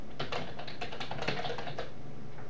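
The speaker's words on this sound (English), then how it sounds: "then you're going to type in your message" Quick, steady typing of a message on a computer keyboard, close and continuous key clatter with no voices.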